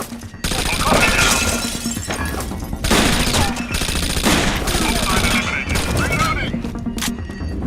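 Squad gunfire in Rainbow Six Vegas 2, loud sustained automatic bursts with shattering glass and debris, rattling in dense volleys with brief gaps between them.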